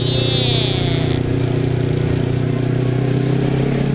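A Yamaha Raider 150 Fi motorcycle on the move, its engine holding a steady, loud hum and buzz close up throughout, with a brief high whine near the start.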